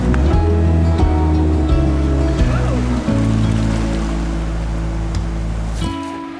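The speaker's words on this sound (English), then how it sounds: "Almost taken out by the West Coast waters here, aka the Pacific." Pacific Ocean waves on the Oregon coast crash and wash in a continuous loud roar, heard close up and overwhelming the scene, with the surge easing slightly toward the end.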